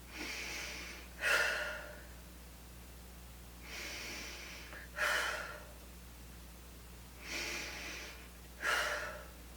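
Slow deep breathing exercise: three cycles of soft, long inhales followed by sharper, breathy exhales, close and quiet over a faint low hum.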